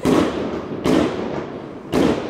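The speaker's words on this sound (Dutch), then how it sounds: "Zo is vuurwerk echt kut eigenlijk." Fireworks bursting at a wedding celebration: three loud booming explosions roughly a second apart, each with a long rumbling decay, heard from a moderate distance.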